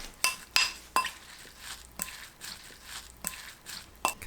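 A spoon stirs dallae soy sauce made of wild chives, chilli, soy sauce, anchovy fish sauce, plum syrup, chilli flakes, garlic, sesame oil and water in a bowl, giving quiet, regular metallic clinks and taps against the bowl.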